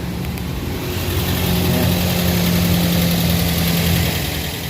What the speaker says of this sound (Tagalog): Mandar na yung makina.